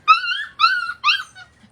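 Puppies give three close, high whimpering yips in quick succession, each a rising-falling whine, with a fainter fourth cry trailing off at the end.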